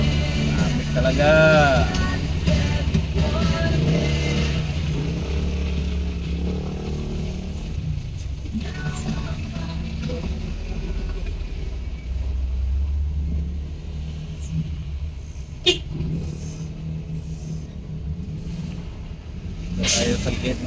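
Traffic in Cagayan de Oro, with motorela passenger tricycles around: a steady low engine rumble and road noise fills the scene, a vehicle revs early on and a sharp knock comes near the end, with a voice talking over it.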